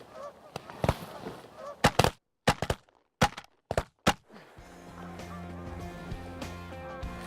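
A flock of geese honks loudly in bursts during a goose hunt, the calls broken by sharp thunks, then a steady ongoing honking chorus close by with some faint talk underneath.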